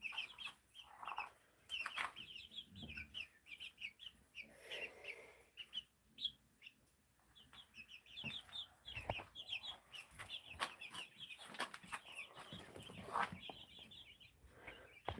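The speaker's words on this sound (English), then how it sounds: "Oh, chickens." Chickens cluck in repeated short bursts across the whole stretch, fairly close, with some scattered bird calls mixed in and no talking.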